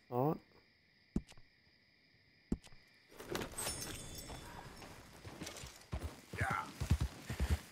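Horse hooves clip-clop in Red Dead Redemption 2 during a bank-robbing episode, a few sharp isolated hoof knocks early on, then a busier stretch of rustling and steps with game sounds and speech mixed in.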